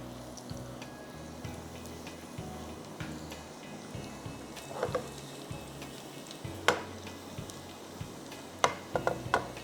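Chopped onions frying in oil for a tadka sizzle softly and steadily in a pan, with faint clinks and a few sharper pops and utensil taps toward the end, no voices.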